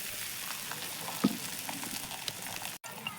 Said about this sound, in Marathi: आता आपण पराठा टाकून घेऊया